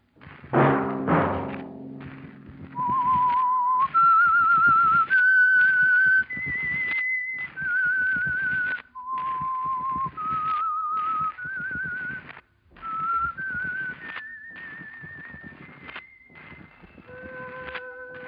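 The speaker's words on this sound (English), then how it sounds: "Let that whistle be your signal for the Signal Oil program" Someone whistles a slow, eerie melody of held, sliding notes, the theme of the 1948 radio show The Whistler, preceded by a few low thumps at the start.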